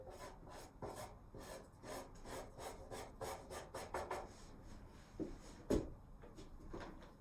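Cotton rubs pastel into paper in steady, close strokes, a soft rhythmic scrubbing with one sharper knock near the end.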